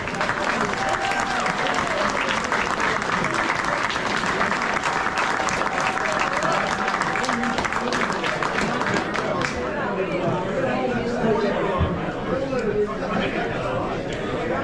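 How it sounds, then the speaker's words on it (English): Warm applause from a banquet audience at a New Smyrna awards night, honoring EMTs Ken and Michelle Gallardo. Dense, sustained clapping fills the room with crowd murmur mixed in, thinning slightly toward the end. "please give a warm round of applause to Ken and Michelle Gallardo, our EMTs"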